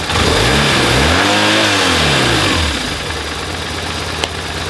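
A BMW R1100RT motorcycle engine during a throttle body sync. It is loud and close, with a brief rev that rises and falls, then settles into a steady, throbbing idle.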